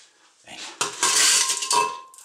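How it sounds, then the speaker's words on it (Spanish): Crushed ice goes in for a vodka cocktail: a few close, loud bursts of clattering ice against metal and glass, with bright clinks, clustered over about two seconds. No one speaks. "Echáis una paleta de hielo picado."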